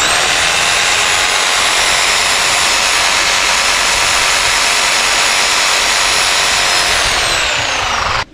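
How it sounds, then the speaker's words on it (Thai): An 800-watt air compressor for powering air tools runs with a loud, steady roar and hiss that holds unchanged for about eight seconds, then cuts off abruptly at the end. "ตัวนี้เป็นปั๊มลมนะครับขนาด800 วัตต์"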